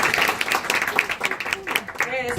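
An indoor audience at an education event claps for helpers, a brief burst of scattered hand claps with speech heard underneath and trailing off at the end.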